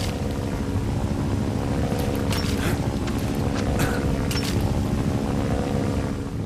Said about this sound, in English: Looks like there's an enemy helicopter patrolling overhead